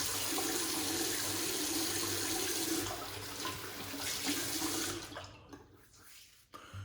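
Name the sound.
water running from tap while washing off face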